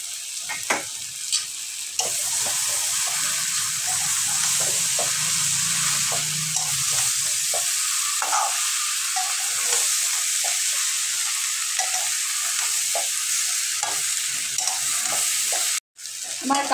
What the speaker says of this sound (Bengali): আমার ইঁচড়টা কষানো হয়ে গেছে। আমি এবার ওর ভিতর ভেজে রাখা চিংড়ি মাছগুলো দিয়ে দিচ্ছি।